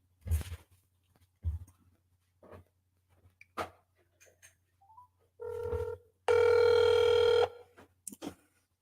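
A telephone call back: a few soft dialing clicks and taps, then a steady, loud ringback tone lasting about a second, with faint handling noise around it and no talk.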